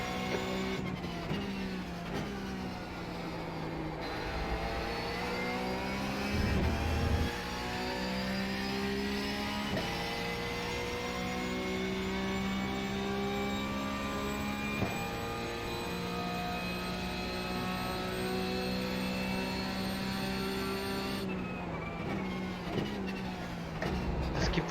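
A Porsche GT3 Cup race car engine roars continuously at Road America in the iRacing simulator, with rising revs through the gears, brief drops at shifts and braking, loud and close with no talking.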